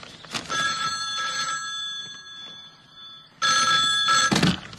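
A telephone rings in repeated electronic bursts, a long ring followed after a short gap by another, loud and close with no talk over it.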